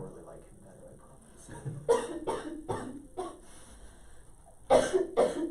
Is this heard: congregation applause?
no